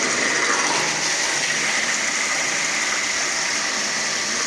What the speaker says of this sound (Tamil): முனிசிபல் தண்ணி நல்லா இழுக்குது. தண்ணி ஃபுல்லாக ஊற்றுது 3/4 இன்ச்சு பைப்பில்.